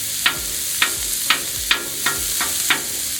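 Raw sausage chopped on a sizzling Blackstone griddle: six sharp metal spatula clacks land at an even pace over a continuous hissing sizzle.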